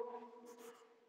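A pen writing out chemical reactions, with faint soft scratching strokes over a quiet hum.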